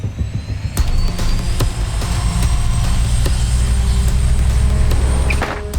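Air ambulance fixed-wing aircraft taking off for a rescue in the Victorian High Country, a steady loud engine roar that swells and holds, heard alone.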